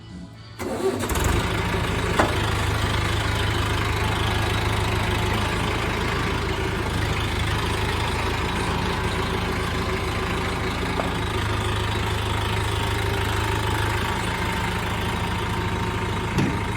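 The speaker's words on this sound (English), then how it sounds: "let's go ahead and start the tractor up" A tractor fitted with a JCT brush cutter starts up and settles into a steady, loud idle that carries on through the rest of the clip, with no talking.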